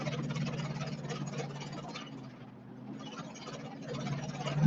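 A car engine drones quietly and steadily while driving, a low, even hum with road noise that dips briefly midway and then picks back up.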